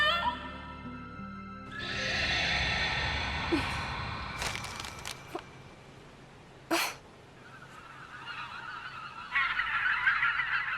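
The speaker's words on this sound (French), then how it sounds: "Les oiseaux." Cartoon birds honking and squawking in an animated French-dubbed series, a loud burst of overlapping honks rising after a quiet start, with a few sharp cries and a busy final stretch.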